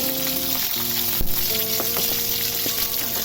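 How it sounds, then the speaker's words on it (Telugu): Chana dal, cumin seeds and green chillies fry in hot oil in a kadai, giving a continuous close sizzle with a few small pops and scrapes. "ఇప్పుడు కళాయిలో ఆయిల్ వేసి పచ్చిశనగపప్పు, 1 స్పూన్ జీలకర్ర అండ్ అలాగే పచ్చిమిర్చి వేసి వేయించుకోవాలి."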